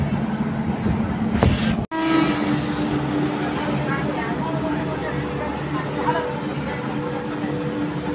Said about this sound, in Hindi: ये ट्रेन निकल गई है।